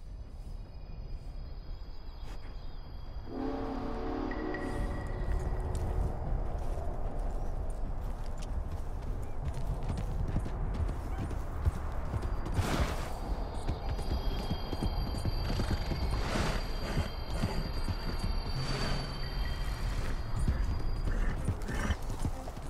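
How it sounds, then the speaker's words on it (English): In Red Dead Redemption 2, a ghost train rolls past with mechanical clanking and eerie tones while a horse's hooves clip-clop steadily and it whinnies in reaction, all heard fairly close over a constant low rumble. "this train has a very ghostly sound and your horse will react weirdly to it"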